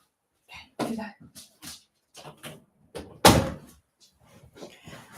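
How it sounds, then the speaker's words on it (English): Scattered thuds and rustles of movement, followed by a sharp, loud bang of a door being shut, then quieter shuffling. "I need to get the dog out of the room and shut the door"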